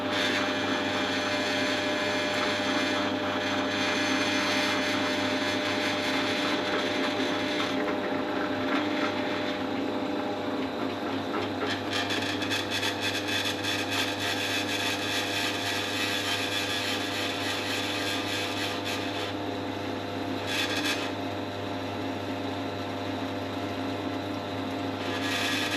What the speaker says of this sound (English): I'll whack it in the drill press like that.